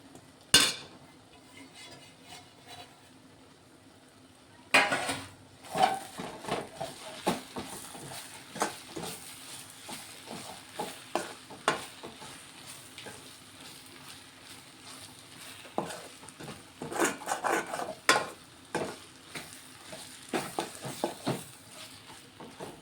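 Metal utensil stirring and scraping in a pan of frying onion egg curry, irregular clinks and scrapes over a faint sizzle, with a sharp clatter early and busier bursts of stirring later.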